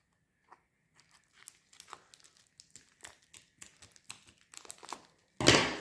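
Parcel packaging being cut open with scissors: scattered small snips, crinkles and tearing, faint and close, ending in a louder burst of rustling plastic.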